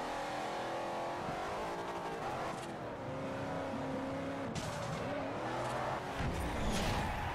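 A car drifts in Forza Horizon, engine revving and roaring continuously with tire squeal and shifting pitch, loud and close, with no talk.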